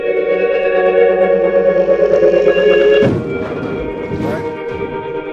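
A drum loop run through the Ujam Boost Grit Groove effect, gritty and distorted over a sustained tonal bed, loud and dense for three seconds before shifting into choppier, rougher processed hits.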